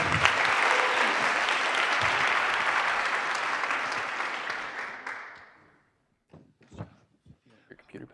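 An audience at a community meetup applauds a speaker with dense, steady clapping that gradually thins and fades out, followed by a few scattered thumps and shuffling sounds.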